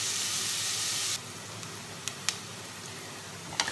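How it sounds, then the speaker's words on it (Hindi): Onions sizzle in a hot pan while frying until brown for an egg curry, a loud steady hiss that drops sharply after about a second, followed by quieter sizzling with a few clicks, no voices. "इसको हम ब्राउन होने तक भूनेंगे।"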